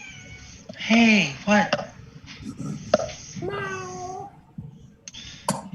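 A pet cat meows loudly a couple of times close by, with drawn-out, rising calls mixed among people talking around a tabletop role-playing game session.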